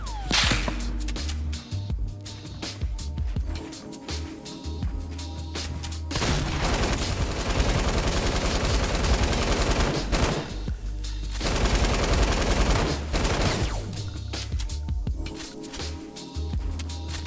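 Tommy gun gunfire in Fortnite, with rapid automatic bursts and cracking shots in several long volleys, loud and close, separated by brief quieter gaps of game ambience.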